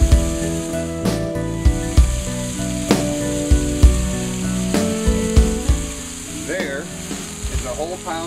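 Cooking oil sizzles on a flat-top griddle set up outdoors for a neighborhood pancake and bacon breakfast, a steady fry punctuated by regular metallic taps and scrapes, with a tonal hum running underneath.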